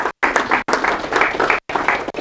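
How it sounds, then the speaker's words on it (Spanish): Applause from an audience at the close of a university talk on gravitation and high energy physics, a brief burst of close clapping broken by short gaps, moderately loud. "Un aplauso."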